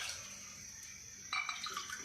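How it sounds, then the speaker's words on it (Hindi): About four cups of water poured into a cooking pot for a kahwa recipe, a brief close splash and gurgle starting suddenly after a quiet hiss. "4 कप मेजरमेंट करके मैंने पानी इसके अंदर ऐड कर दिया है।"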